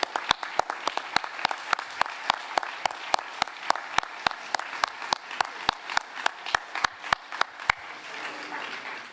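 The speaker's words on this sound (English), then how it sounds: "we all give you a huge round of applause" Audience applause welcoming new board members at a downtown annual meeting, a dense steady patter of many hands clapping that dies away near the end, with sharp individual claps standing out.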